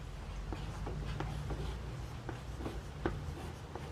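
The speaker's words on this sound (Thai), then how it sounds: "เดี๋ยวจะเขียนตรงนี้ก่อน" Marker or chalk strokes on a board during a Thai-language lesson, a series of short scratchy taps and squeaks spaced about every half second over a steady low room hum.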